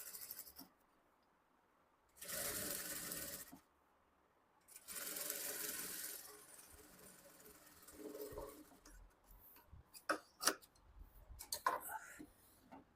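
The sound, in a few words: sewing machine stitching folded fabric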